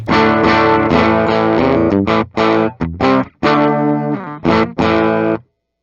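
Gritty electric guitar chords from a 1993 Gibson Les Paul Custom ring out loud through a slightly overdriven amp, with a sustained opening followed by short choppy hits and a sudden stop.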